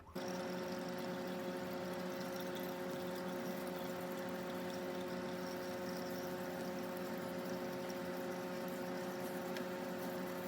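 Engine oil drains from a spout below the filter, guided past a starter bash guard into a pan beneath a vehicle, a steady continuous liquid pour and trickle with a constant hum, no talking.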